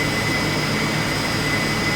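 Twin jet engines of a McDonnell F2H-2 Banshee in a flight sim, a loud, steady roar with a sustained whine and low rumble, continuous throughout with no talk.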